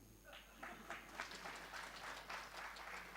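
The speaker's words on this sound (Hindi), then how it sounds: "बहुत धीरे ताली बजाई" Soft, scattered applause from an audience at a live Ram Katha religious discourse, gentle claps repeating at an irregular pace, faint and a little distant.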